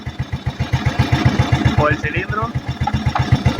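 Italika FT150 motorcycle engine with a replaced piston and cylinder sleeve, idling close by in a fast, even, loud putter, while someone speaks over it.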